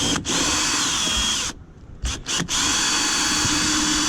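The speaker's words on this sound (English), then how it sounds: "now we're just going to take this 1/8 inch drill bit right here" A power drill with a 1/8 inch bit whines steadily, briefly cutting out and restarting twice in quick succession before running on continuously.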